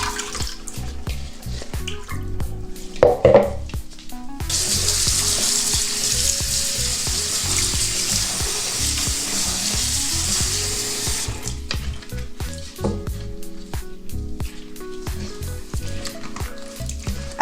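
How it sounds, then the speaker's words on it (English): Running water from a tap pours steadily over sea moss being rinsed, a continuous close hiss of flowing water in the middle stretch, framed by quieter splashing and handling sounds before and after. "we're gonna get ready to rinse"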